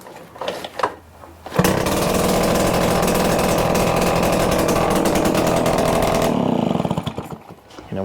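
Echo EBZ8500 backpack leaf blower with its two-stroke engine running without its muffler, a few pull-start coughs, then a loud raw continuous roar for about five seconds before dying back down.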